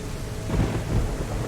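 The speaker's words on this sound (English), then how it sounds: "I don't like the rain though." Rain and thunder in the survival video game Deer Isle, a steady hiss of rainfall under a deep rolling rumble of thunder, with no talk.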